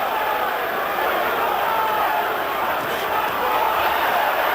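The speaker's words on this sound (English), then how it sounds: "Crowd supporting Holyfield as never before." A large arena crowd at the Evander Holyfield vs Michael Moorer heavyweight boxing fight keeps up a dense, steady roar of cheering and chanting for Holyfield, with no break across the whole stretch.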